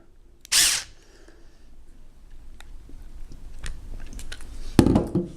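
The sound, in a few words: tightening screw into wall anchor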